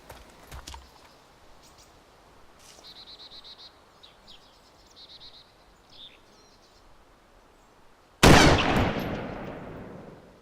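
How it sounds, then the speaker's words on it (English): A single loud M107 rifle shot booms in the DayZ video game, a sharp blast with a long decaying tail, after several seconds of faint chirps and soft ambient noise. "Thanks to my trusty M107, the loudest fucking gun I've ever had in a game"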